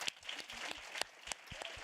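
Audience applause following a conference talk on gender equality in Iceland, fairly quiet and distant, with a few sharper individual claps standing out from a soft, steady patter.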